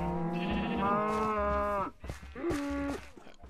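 A cow moos loudly and close by in two long, drawn-out calls, the first longer than the second, with a short pause between them and no talk over them.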